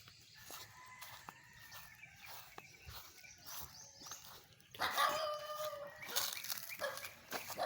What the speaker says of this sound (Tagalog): Asong sumunod sa atin mga lods.